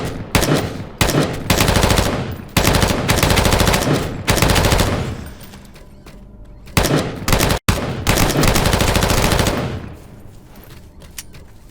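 Automatic gunfire in the video game Dysterra: loud, dense bursts of rapid shots in several long volleys separated by short pauses, ending with a final sustained burst that fades out.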